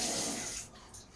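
Warm water runs from a tap into a sink as a steady, close rushing stream that softens slightly partway through the brief moment.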